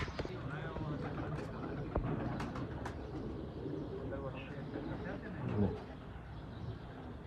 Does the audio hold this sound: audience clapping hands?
no